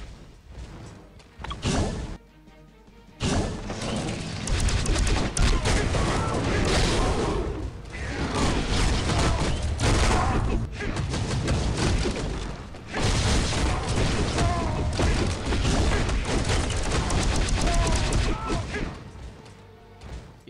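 Bubble gun firing in the mobile game Marvel: Future Fight, with dense, continuous bursts of blasting and whooshing effects running almost throughout, broken by brief lulls and mixed with loud game action.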